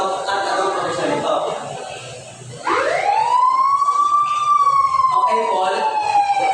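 A police car siren wails loudly, sweeping up into a long sustained rising-and-falling tone over a steady background hum, played as a sound example in a classroom listening activity.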